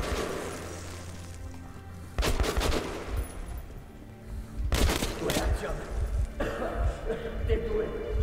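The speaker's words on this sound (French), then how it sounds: "Le mec il me tire à travers le mur là?" Gunfire in the video game Metro: Last Light Redux cracks out in several sharp bursts, some in rapid runs, loud against a murky background, with voices talking over parts of it.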